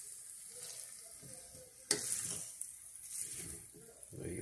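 Shrimp curry with rice being stirred in a pan, with soft scraping and sizzling throughout, a sharp clank near the middle and voices murmuring quietly in the background.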